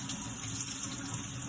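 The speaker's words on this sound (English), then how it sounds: "carefully run each fish under water and rinse the front and back of the fish" Tap water runs steadily from a faucet into a sink as fish are rinsed under the stream for an Indian dinner, a constant close splashing hiss with no voices.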